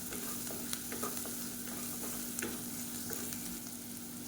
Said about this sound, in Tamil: இப்போ உருளைக்கிழங்கு நல்லா வறுபட ஆரம்பிச்சிருச்சு